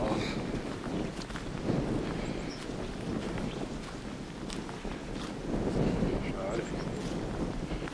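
Wind blowing hard across the microphone outdoors around Erbisreute in the Schlier area, a continuous rough rumble that swells and eases in gusts, with a voice speaking briefly in the middle.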